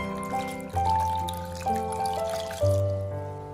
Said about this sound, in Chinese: 再往里面加入多一点的清水